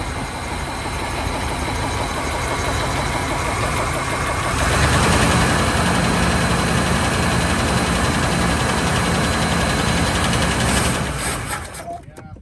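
A 1984 Ford Fox body with 40k original miles, sat for 20 years, runs loud and close, revving up partway through with a rough, steady drone before cutting out at the end.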